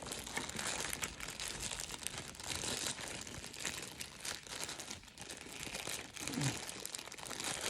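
Crinkly plastic packaging from a supermarket haul being pulled open and handled, with steady rustling and crunching crackles running throughout at close range, and no talking.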